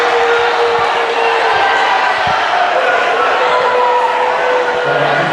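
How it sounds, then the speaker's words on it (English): Crowd at a high school basketball game reacting to a referee's foul call, a loud continuous roar of voices in a gym with faint thuds underneath. "the response by the crowd is what I'm judging it off of as Knox Brooks goes to the free throw line"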